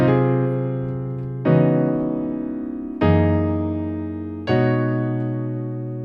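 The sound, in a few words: piano playing section 5 of a song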